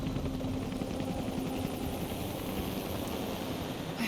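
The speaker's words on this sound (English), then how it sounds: "the Trinity helicopters don't necessarily mean it's too late" Trinity helicopters in the video game Rise of the Tomb Raider give off a steady, whirring rotor drone over a low engine hum. The sound stays constant and fairly loud throughout.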